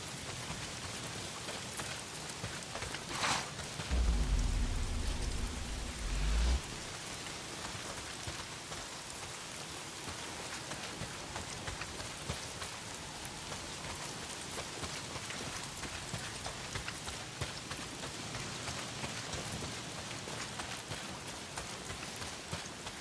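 Steady rain falls in the video game Days Gone, a dense even patter on surfaces throughout, with a brief low rumble early on and no voices.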